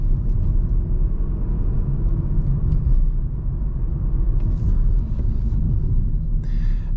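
A Renault Clio 1.0 TCe 90 hp hatchback driven at night in standard mode, heard as a steady low road and engine rumble from inside the cabin, with faint interior clicks and no talking.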